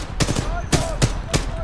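Gunfire bursts in Titanfall 2, a first-person shooter, where a strong-recoil weapon fires four loud, spaced shots over a game soundscape, with faint talk beneath.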